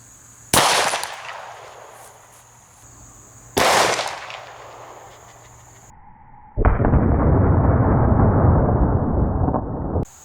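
Two sharp, loud 10mm gunshots firing 200 grain hollow point bullets into clay blocks outdoors, each followed by a fading echo, then a burst of loud broadband noise.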